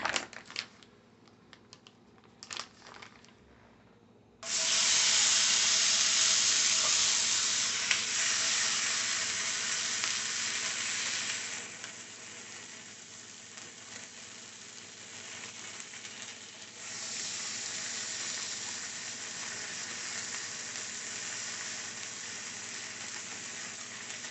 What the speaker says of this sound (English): I'm getting ready to get my turkey bacon sizzling in my pan